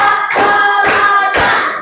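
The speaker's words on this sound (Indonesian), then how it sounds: "sebelum memulai pembelajaran kita tepuk semangat dulu ya" An Indonesian elementary school class claps together in a rhythmic cheer, three loud, sharp group claps spaced evenly about half a second apart, with voices ringing underneath.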